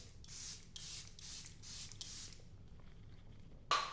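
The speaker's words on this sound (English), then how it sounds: "So I'm just gonna spray that all over." Charlotte Tilbury Airbrush Flawless setting spray hisses out in five quick bursts sprayed over a face, close and bright, then falls quiet before a sharp clatter at the end.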